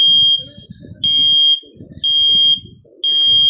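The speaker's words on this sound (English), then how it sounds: "This alarm can't be silenced." A home smoke alarm blares loud, shrill half-second tones, about one per second, alternating with a synthesized voice announcement.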